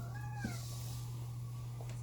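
A female cat meows once, a short rising-and-falling call heard close by over a steady low electrical hum, with a second faint call near the end; no one speaks.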